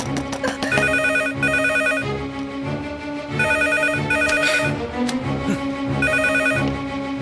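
A telephone rings repeatedly in steady electronic bursts, layered over a busy dramatic music score that stays loud throughout.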